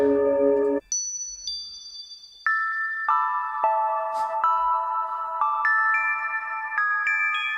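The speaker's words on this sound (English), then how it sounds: "Is it like a little Glock or something? Shimmering bells?" Bright, shimmering bell tones like a glockenspiel ring out in a chill lo-fi hip hop beat, a sequence of sustained, overlapping chiming notes that step through a melody at a steady, close level.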